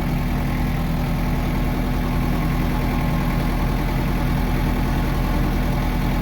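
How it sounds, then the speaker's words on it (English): Loud tractor engine running on a gravel driveway under a little extra throttle, a close, unbroken droning rumble that holds steady throughout with no voices. "It's just the tractor's loud and I'm giving it a little more gas to get us up there quicker."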